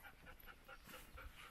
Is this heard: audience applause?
no